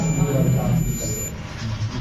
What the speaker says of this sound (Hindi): देखो डायोड में भी आ गई बीप की आवाज़